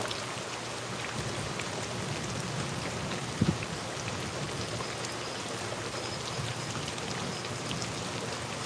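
Steady rain pours down in a constant, hissing wash, evenly loud throughout with no voices.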